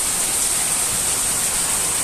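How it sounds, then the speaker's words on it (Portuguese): Heavy pre-dawn rainstorm in Itapura, with water flooding the ground and a drain overwhelmed; a steady, dense broadband hiss of downpour fills the whole stretch without pause, loud and close, with no voices. "chuva forte, ó, muita chuva de madrugada aqui"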